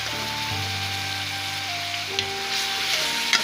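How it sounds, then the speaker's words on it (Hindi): Chicken sautéing in oil-separated masala for a palak chicken curry, giving a steady, close sizzle that runs throughout, with faint tonal hum underneath. "चिकन की भुनाई अच्छी तरह करती हूँ"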